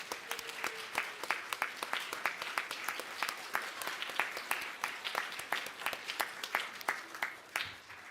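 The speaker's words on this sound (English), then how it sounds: "Let's have the electeds have a round of applause." A room of people gives a round of applause for elected officials at an Inauguration Day ceremony, dense clapping with sharp individual claps standing out, steady and moderately loud throughout.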